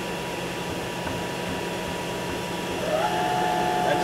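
A KIA HC800 horizontal machining center spindle runs steadily at 1,000 RPM, a continuous mechanical whir with a thin tone that rises slightly in pitch near the end, alone without talk.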